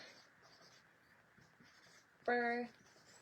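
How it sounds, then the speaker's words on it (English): A pen writes a birthday greeting on a handmade cake-slice postcard, a faint, soft scratching heard up close in short strokes, followed by a brief louder tonal sound. "I'm just going to write happy"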